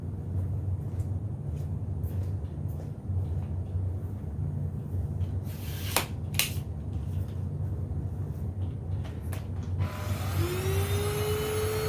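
A Greenote GSC40 cordless stick vacuum runs on high power while picking up oats, dog food and rice, giving a steady low motor hum, a few sharp rattles of debris being sucked in, and a rising whine near the end.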